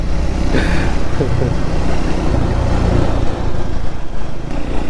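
A Triumph Speed 400 motorcycle engine runs steadily and close by through the whole span, a loud continuous rumble without clear revs or pauses.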